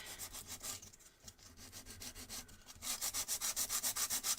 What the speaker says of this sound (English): you can very gently sand away